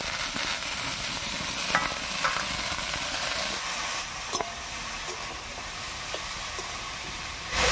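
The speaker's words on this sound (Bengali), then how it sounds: "মোচাটা দিয়ে একটু নাড়িয়ে নিয়েছি" Banana flower being stirred with rice and potato in a frying pan for mochar ghonto, giving a steady close sizzle and hiss with occasional scraping clicks, no voices.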